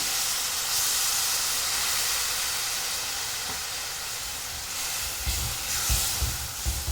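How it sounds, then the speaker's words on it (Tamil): A steady hiss of water boiling in a cooking pot during vegetarian mutton liver chops preparation, with low rumbling bursts toward the end; no voices. "இப்போ கொஞ்சமாக தண்ணி சேர்த்து கொஞ்சம் கொதிக்க விடலாம்"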